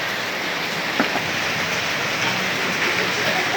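Rain falls outdoors in a dense, steady hiss, loud and continuous throughout with no voices breaking through.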